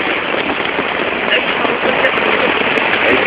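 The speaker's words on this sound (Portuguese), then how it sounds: "Então vamos esperar a chuva passar, né não?" Heavy rain pours onto a tent at a campsite in a dense, continuous hiss, loud and close, with no voices over it.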